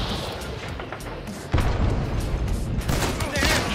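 Gunfire in the shooter Hunt: Showdown, heavy booming shots and reports over rumbling ambience, with a loud blast midway and further cracks after; a voice briefly talks alongside.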